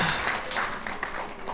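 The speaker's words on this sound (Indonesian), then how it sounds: "Boleh kita berikan tepuk tangan untuk mereka." Audience applause for a performing class, a steady broadband wash of clapping from a crowd that holds at an even level throughout.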